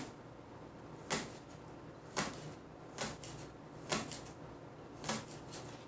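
A knife chops green onions on a cutting board, making five evenly spaced, crisp thuds about a second apart over a faint background.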